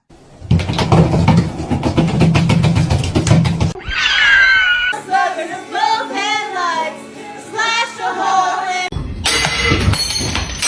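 Kitten meowing and crying in loud, repeated wavering cries, with a burst of broadband clatter first and bright harsh noises at the end.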